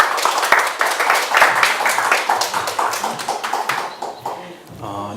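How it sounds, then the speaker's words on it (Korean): Audience applause welcoming a professor to a lecture, lively clapping with sharp individual claps up front that fades out, followed by a voice beginning to speak. "우리 박수로 환영해 주시기 바랍니다."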